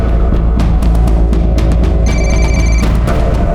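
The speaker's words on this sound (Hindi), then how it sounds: "घंटी की आवाज आ रही है अंदर से" A telephone rings nearby inside a house, with repeated loud electronic bell bursts in a steady rhythm and no talking over it.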